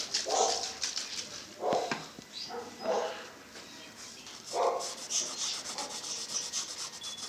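A Italika FT150G motorcycle wheel rim is rubbed clean by hand, producing several scattered scrubbing strokes and soft scraping rubs, close but fairly quiet, with a faint hiss between them.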